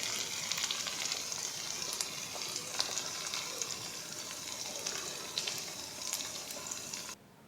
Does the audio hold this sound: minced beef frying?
yes